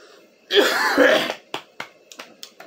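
A rough, drawn-out throaty cough, then a handful of short, sharp coughs or hacks trailing off, close and fairly loud.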